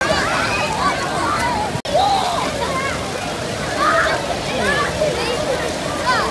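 Children splashing and sloshing in an outdoor swimming pool in Sweden, a continuous watery wash with scattered splashes beneath lively voices and background chatter, close and fairly loud throughout.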